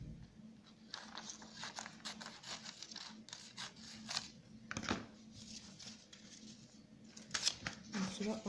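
Scissors snipping through paper tags being trimmed, a run of short crisp cuts and rustles close by, with someone talking throughout.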